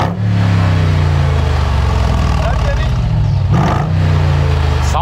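A supercharged Mercedes SL 55 AMG with the M113K engine revs hard, a loud, deep, close engine roar that climbs and drops between throttle blips, with people talking over it.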